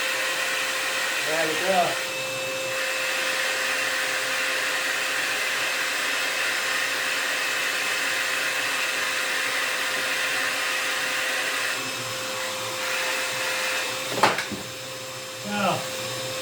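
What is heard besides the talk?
DIY dust extractor switched on, running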